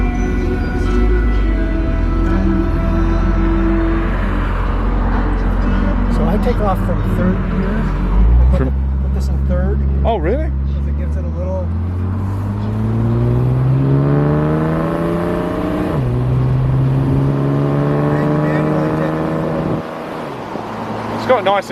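A Mercedes 230 SL's engine drones close by while driving, the exhaust rising through the gears and then settling back down, with people talking over it.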